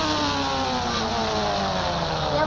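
A motorbike engine drones steadily and loudly throughout, its pitch sliding slightly as it runs without pause and with no talk over it.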